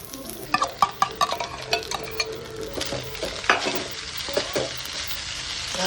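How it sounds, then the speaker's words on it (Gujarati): Vagharela bhaat, tempered rice, stirred in a frying pan: repeated scraping strokes of the spoon over a steady low sizzle, close and fairly quiet, with no talking. "હવે હલાવી લેશું."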